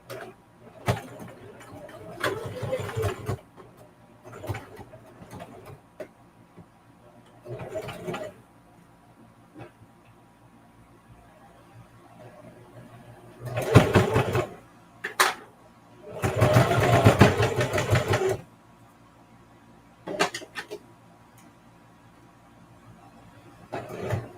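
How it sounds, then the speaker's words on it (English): A sewing machine backstitches through a quilted zipper pouch in short, separate bursts of rapid stitching with quiet pauses between, the longest and loudest runs coming near the end. "I can see how my needle is moving in this area, because I do want to backstitch"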